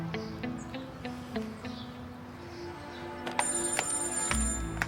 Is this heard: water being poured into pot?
no